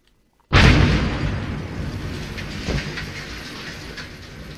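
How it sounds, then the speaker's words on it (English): A video game explosion in a co-op multiplayer mission called Chain Reaction hits with a sudden, loud, booming blast and then rumbles away in a long, slowly fading roar, with no talk over it. "Cool guys, don't look at explosions."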